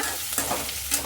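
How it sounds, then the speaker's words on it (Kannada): A tempering with capsicum sizzles in a frying pan as a spatula stirs it. Two brisk scraping strokes stand out over a low, steady hiss. "ಈಗ ಇನ್ನೊಂದು ಸಲ ತಿರುವ್ಕೊಳ್ಳೋಣ"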